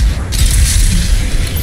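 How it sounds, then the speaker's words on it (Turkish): Explosions in the shooter game Doom Eternal burst out together as a loud, dense roar of booming low rumble and crackling debris that fills the whole moment with no talking. "Aynı anda patladıklarında ise güzel bir manzarayla karşılaştık."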